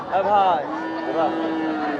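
A cow moos loudly and close by at a cattle market, a long drawn-out bellow followed by a second lower call, with crowd noise murmuring underneath.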